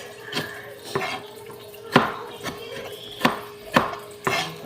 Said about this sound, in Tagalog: Isunod na natin yung kamatis guys. Sa pag hiwa-hiwa.